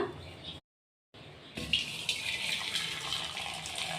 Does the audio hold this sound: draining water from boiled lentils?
yes